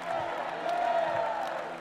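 Marathon spectators lining the course at the Rio 2016 Olympic men's race, a diffuse cheering crowd with scattered whoops, moderately distant and continuous for a brief moment.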